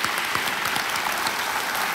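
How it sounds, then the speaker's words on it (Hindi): Steady, dense applause from a studio audience on a televised quiz show welcoming a contestant and his mother, filling the whole moment without voices. "तालियों के साथ"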